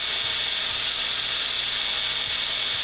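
A case trimmer cuts 5.7x28 mm brass with a steady high, hissing whir, close and constant, with faint low clicks underneath.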